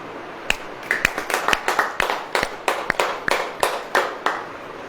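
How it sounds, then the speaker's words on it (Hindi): A church congregation claps in a steady, somewhat uneven rhythm of about a dozen sharp, loud slaps over a few seconds. No one speaks over the claps. "ऐसे ऐसे ताली बजाएं।"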